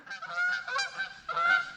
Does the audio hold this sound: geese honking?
yes